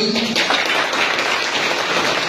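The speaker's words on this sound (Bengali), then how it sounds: "তো সেই অর্থে এই 71 ক্যান্ডিডেটের জন্য জোরে একটু হাত তালি" An audience applauding successful students at a coaching-centre results gathering, a dense steady patter of many hands clapping close by.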